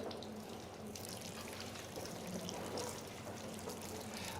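Water pours steadily and continuously during a ghusl washing of a body, a soft, even splashing flow that runs for several seconds without pause, faint and distant with no voices.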